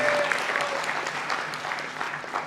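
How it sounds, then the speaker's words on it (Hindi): Steady applause from an audience at a ballet performance, dense clapping sustained throughout with a few sharper claps standing out. "जोरदार तालियां करिए"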